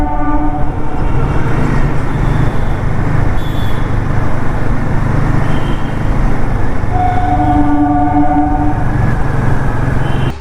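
A train rolls past close by near Patna Junction, a steady loud rumble of wagons on rails with tonal horn-like hums rising near the end, filling the whole stretch without talk.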